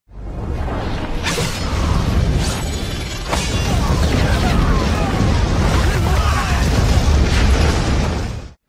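Sustained loud rumbling blasts with whooshing bursts, a continuous roar of explosions filling the whole stretch without pause.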